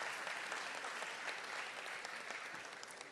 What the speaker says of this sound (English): Let's give our chancellor a big hand of applause